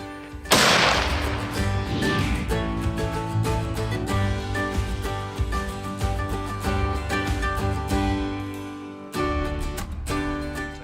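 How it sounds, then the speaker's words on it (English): Rifles being sighted in at a hunting camp with Northern Alberta Outfitters, a sharp nearby shot opening the span and its echo trailing off, with a steady tonal background bed running throughout. "Once we got to camp and unloaded, it was time to sight in our rifles."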